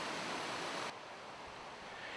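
Water flowing through a historic irrigation channel that runs along rocks into a forest, a continuous broadband rushing that drops abruptly to a softer, steadier trickle partway through, with no voices.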